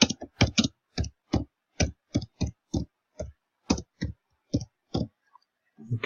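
Someone types on a computer keyboard, a run of crisp separate key clicks in an uneven rhythm with short pauses, close and clear, with no voices over it.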